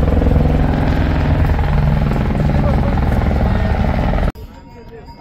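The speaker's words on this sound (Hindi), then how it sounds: "हेलीकॉप्टर भी आ रहे हैं जा रहे हैं।" A helicopter flies near a mountain trail to Kedarnath, giving a steady loud rotor drone with some clatter that cuts off abruptly near the end.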